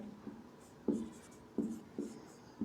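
Chalk or marker taps and scratches on a board during a class 12 physics lesson, several short separate strokes in an uneven rhythm, close and fairly faint in a quiet room.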